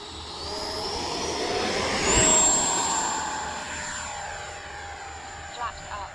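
FMS Futura V3 RC jet plane flying past, a steady broadband engine rush that swells to a peak near the middle and fades away, with a thin high whine riding above and people talking faintly underneath.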